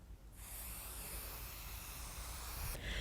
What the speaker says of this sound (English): put just again another little layer of spray baste on top